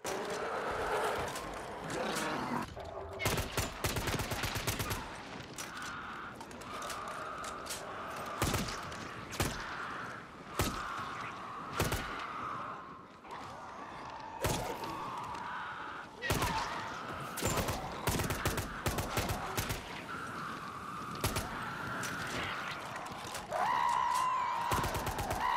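Full-auto assault rifle fire in the video game Dying Light 2, rapid bursts of gunshots repeating through the clip against continuous game sound, with someone talking over it.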